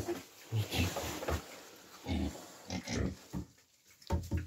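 A Vietnamese pot-bellied pig gives short low grunts in uneven bursts, close by, mixed with a person speaking nearby.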